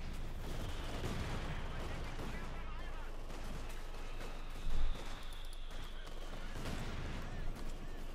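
Dense machine gun and artillery fire from the Company of Heroes 2 strategy game rumble continuously, with heavy thuds and rattling bursts layered in a loud, busy battle soundscape.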